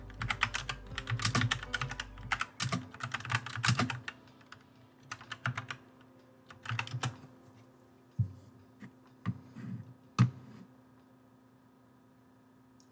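Typing on a computer keyboard, bursts of fast clicking keystrokes separated by pauses and scattered single taps, close and clear over a low steady hum, with no talking.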